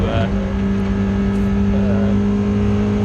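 Race cars take the restart at Snetterton in a 750MC Roadsports race, a dense, continuous engine roar with steady tonal whine, close and loud, with a commentator talking over it.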